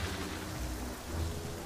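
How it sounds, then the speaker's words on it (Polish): Steady rain pours down in a forest area of the video game Fable, a dense, continuous hiss with a low rumbling undertone suggesting distant thunder. "Kolejne piękne efekty deszczu."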